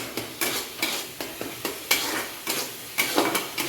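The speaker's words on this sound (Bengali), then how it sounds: "দেখুন কত সুন্দর কষানো হচ্ছে।" Spice paste is sautéed in oil in a pan and stirred in a regular rhythm, each spatula scrape sounding loud and close over a continuous sizzle.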